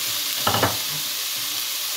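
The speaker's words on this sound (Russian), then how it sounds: "На этой сковородке обжариваем перец и баклажаны по очереди." Peppers frying in a pan, a soft continuous sizzle with a brief burst of stirring clatter early on and a faint knock near the end, no talking.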